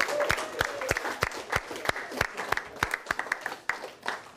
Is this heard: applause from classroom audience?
yes